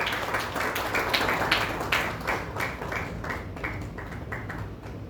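A congregation at an Easter Sunday church service claps together, a moderately loud patter of hands that softens gradually toward the end. No voices are heard.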